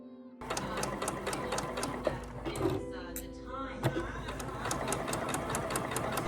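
A sewing machine stitching wedding dress fabric, its needle chattering in a fast, steady mechanical rhythm close by, pausing briefly midway before running on, with faint background talk underneath.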